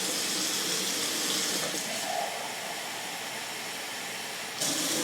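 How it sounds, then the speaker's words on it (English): Water pours steadily into a Phalaenopsis orchid pot, a close, continuous splashing hiss that eases slightly midway and then swells again at the end. "So I'm just going to add a little more water."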